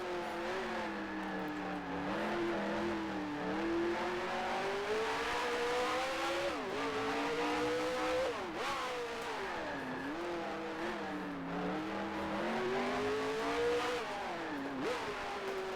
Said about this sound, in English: Just have to blip that throttle enough to make the rear end not slide out